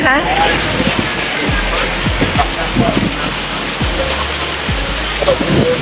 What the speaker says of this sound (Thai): มาชมน้ำตกเกซิออนนะคะ เนี่ยค่ะสวยมากเลยนะคะ